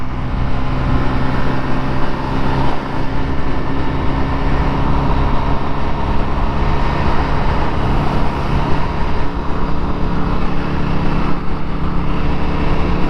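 A carbureted Honda Navi scooter running on its reserve tank, its small engine droning loudly and steadily under rider and wind noise with no pauses.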